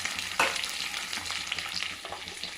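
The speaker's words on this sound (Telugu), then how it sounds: "ఉల్లిపాయలు ఉల్లిపూలు వేసుకొనేసి షాలో ఫ్రై చేసుకుంటాం" Sliced onions shallow frying in hot oil with cumin seeds and curry leaves, a steady close sizzle with a sharp stirring scrape near the start, and no voices.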